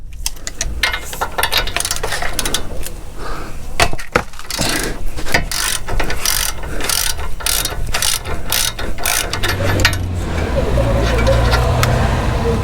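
A ratchet wrench clicks in rapid, steady runs as it loosens the drive shaft nut on a VW Transporter, loud and close, with a voice talking in between and a low engine-like hum near the end.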